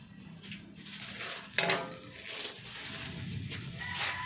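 Metal utensils clink and stir in a pot of boiling soup as dry misua noodles go in, with a soft bubbling simmer underneath and one sharper clatter of metal on the pot.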